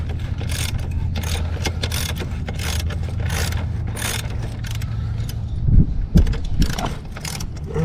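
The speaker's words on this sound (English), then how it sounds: "So you gotta just loosen. God damn. Gotta loosen that axle up." Loosening the rear axle on a 2022 Honda Monkey motorcycle, heard as repeated metallic ratchet clicks and mechanical rattling close by, with a couple of louder clanks near the end and no speech.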